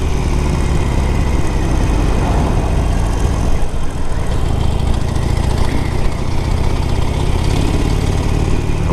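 A 2015 Harley-Davidson Sportster Forty-Eight motorcycle engine drones loud and steady while riding on the road, a continuous low rumble mixed with wind roar and no voices.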